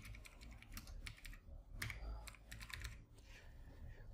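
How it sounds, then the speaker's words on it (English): Fast, light clicking of keys on a computer keyboard while typing a search into Windows, close and fairly quiet, in quick irregular runs with brief pauses. "press on Windows key, then type here Windows security"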